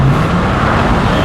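A 2020 Porsche Taycan accelerates hard, its smooth electric whine and rising road and tire roar filling the cabin loudly and steadily with no voices over it.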